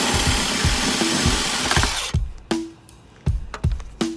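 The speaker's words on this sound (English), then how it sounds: "The best way to effectively get this out would be with the impact wrench." An impact wrench works a bolt loose during a hitch installation on a 2022 Hyundai Tucson PHEV. A dense whirring hammer comes first, then a series of short sharp bursts and clanks separated by brief quiet gaps.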